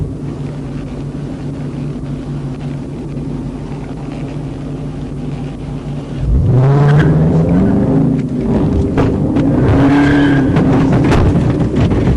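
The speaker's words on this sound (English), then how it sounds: "The first maneuver caused the van to spin out momentarily." A van in a police chase spins out after a pit maneuver, with a steady loud engine drone, then a sharp rise in tire squeal and engine roar partway through, continuing noisily to the end.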